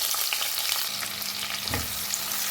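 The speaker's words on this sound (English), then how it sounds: "once the oil becomes nice and fragrant, a thinly sliced onion goes in" Thinly sliced onion fries in hot, fragrant oil in a one-pot rice and vegetable dish, giving a loud, dense, continuous sizzle close up, with a soft stir or shift partway through.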